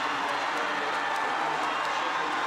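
Crowd noise swells at a Paralympic swimming final, the men's 100m backstroke S10 in Beijing, a broad steady roar of cheering spectrators in a large aquatic arena.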